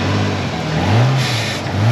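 A Nissan Skyline with an RB25DET engine and a TurboSmart blow-off valve revving near the mic, a loud rising and falling engine note with two throttle blips and a brief hissy release between them.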